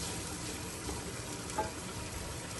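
Chicken pieces lightly frying in a pan for Chinese kababs, a soft continuous sizzle at low level with a faint stirring clink partway through, no talking.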